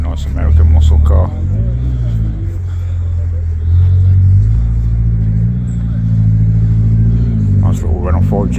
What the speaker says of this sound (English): Nice little Renault 5 GT Turbo just pulled up as well.